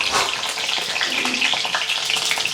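Garlic cloves and chopped green chilli fry in hot oil in a pan, giving a steady, close hissing sizzle that holds evenly throughout with no talk over it.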